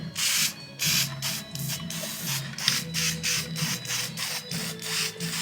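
Repeated hissing bursts from a spray can aimed at a leaking oil filter head on a Jaguar E-Type 4.2, pulsing in short on-off sprays with a faint rattle between them, close up.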